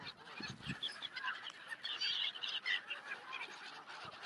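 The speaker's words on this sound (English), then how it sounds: "All these noisy gulls." Noisy gulls at a park lake call in a loose squawking chorus, honking cries overlapping and rising and falling at moderate distance, with no talk over them.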